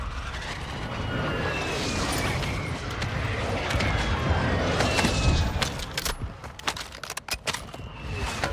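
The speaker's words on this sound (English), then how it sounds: "Friendly mortar strike on the way." Mortar strikes land in a video game battle as a rumbling roar of blasts and debris, followed by a burst of sharp, rapid cracks toward the end, loud and close.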